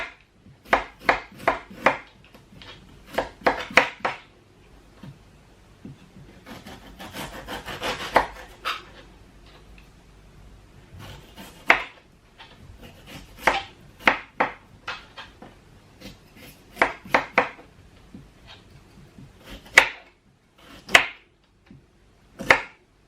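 A knife chops fresh ginger on a board in irregular bursts of sharp close taps, with brief pauses and scraping between runs of cuts.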